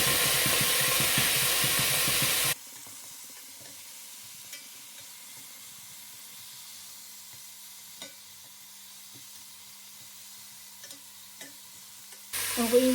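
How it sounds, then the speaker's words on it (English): Okra stew is stirred in a steaming pot with a brief burst of loud sizzling and scraping, then only a faint, quiet hiss of steam remains. "I'm just gonna give it a quick stir to turn it to the other side."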